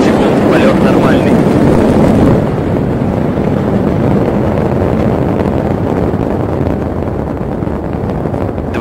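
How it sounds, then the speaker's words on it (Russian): Angara-A5 rocket engines thunder continuously after launch from Vostochny, a dense far-off roar with steady wind buffeting the microphone; it is loudest in the first two seconds, then settles to a sustained rumble. "Есть запуск двигателя ракетоносителя."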